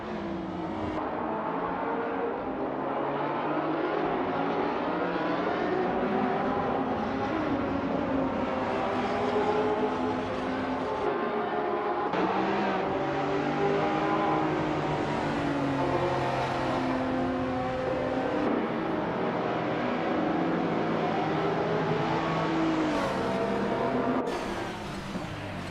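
Race car engines roar around the Circuit of the Americas in a racing video game: a steady, dense drone of several whining motors, their pitches rising and falling as cars accelerate and shift, continuing without pause.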